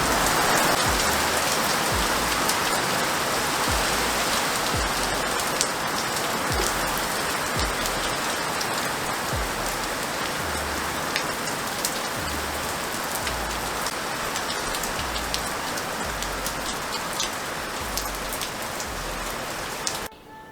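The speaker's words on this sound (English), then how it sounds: "it's storming." Heavy rain pouring steadily during a storm, a dense, loud, continuous hiss of drops on surfaces with a low rumbling undertone, unbroken for the whole stretch and no voices.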